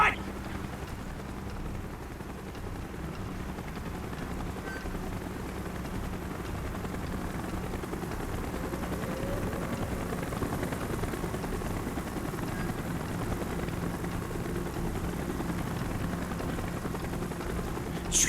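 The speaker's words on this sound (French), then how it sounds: "Hélico d'approche, on se maille!" A helicopter approaches in a Call of Duty Black Ops campaign mission, with a steady, dense rotor and engine roar holding throughout at fairly constant loudness.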